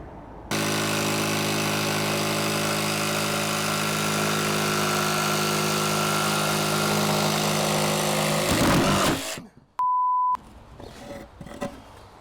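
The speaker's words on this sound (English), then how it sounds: "let's attack it with the jigsaw" A jigsaw cuts through a large board for a model railway layout, a loud, steady, whining motor buzz held for about eight seconds before stopping abruptly, followed by a brief electronic tone and quiet handling noises.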